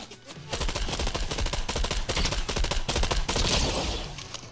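A pumpkin launcher fires in a video game as a rapid, dense burst of loud, punchy shots that repeats steadily for several seconds, heard alone without talking.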